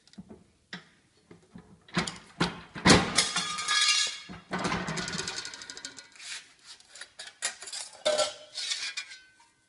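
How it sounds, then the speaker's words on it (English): Tin snips shearing oversized pieces of sheet metal for a truck cab corner repair, with sharp metallic cuts and clinks arriving in irregular bursts, close up and fairly loud, with no talking. "I'm going to cut it a little bit bigger so I can sneak up on it with tin snips."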